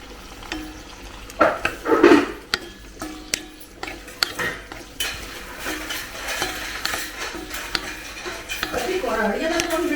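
Cooking in a Swastha cookware kadai brings scattered metallic clinks and stirring taps, soft then busier, while people talk throughout in a home kitchen.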